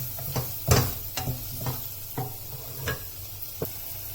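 Vegetables sauté in a pan for wheat rava upma, a hissing sizzle under a series of spaced spatula knocks and scrapes against the pan.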